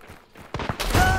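Gunfire during a video game match ending in a headshot: a quiet stretch, then a few sharp close shots and a louder burst with a ringing tone near the end.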